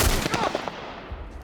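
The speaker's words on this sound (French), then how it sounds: "Qui tire?" Gunfire in the video game The Last of Us, survival mode: a burst of sharp shots lands loud at the start, then fades into a rumbling decay with scattered fainter cracks.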